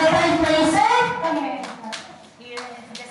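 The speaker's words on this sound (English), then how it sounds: "Please give a clap for Adana." Audience clapping for a placer at a school mathematics quiz bee finals, scattered applause under a speaking voice that fades to a few light claps.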